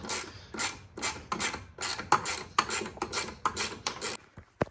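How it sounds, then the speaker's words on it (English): Ratchet wrench with a 10 mm socket unbolting the coolant expansion tank from its bracket on a BMW E46 M3, giving a close series of about ten quick, bright clicking bursts in steady rhythm, then a short pause and a final click. "Now I'm gonna go ahead and unbolt the expansion tank from the bracket, just with a 10 mil."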